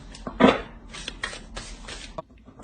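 Tarot cards are reshuffled by hand in a few quick, crisp bursts of riffling and sliding, close by, with short pauses in between.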